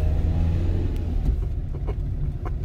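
Car engine idling and revving on a winery road on Pico Island, a low steady rumble close by with faint clicks and knocks over it, no talk.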